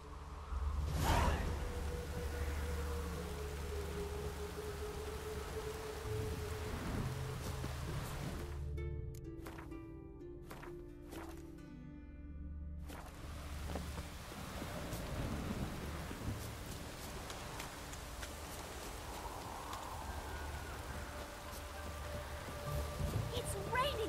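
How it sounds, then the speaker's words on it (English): Rain pours steadily in the Novigrad area of the video game The Witcher 3, with a low rumble and a brief whooshing break. It stays quiet and constant throughout. "It's raining buckets!"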